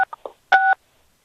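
Telephone keypad pressed during a phone conference, with three short DTMF beeps followed by one longer tone, loud and close in silence.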